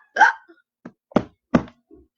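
A cartoon-style hiccup sound followed by three short drum-like thumps, evenly spaced and fairly close, with no talk over them.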